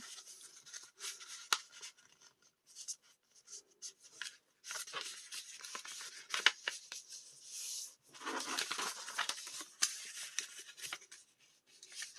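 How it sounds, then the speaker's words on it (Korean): Sheet of paper folded in half for a book craft, with soft, close rustling, crinkling and short rubbing swipes in irregular bursts, quiet and without talk. "종이를 절반으로 접어줍니다"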